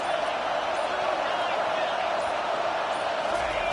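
Football stadium crowd roaring steadily for the defense at a Penn State versus Ohio State game, a dense continuous wall of cheering with no breaks.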